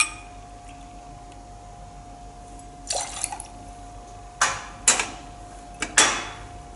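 Grapefruit juice, 25 ml, measured and poured for a cocktail: after a quiet stretch come a few short liquid pours and glassy clinks, close and fairly soft, spaced unevenly.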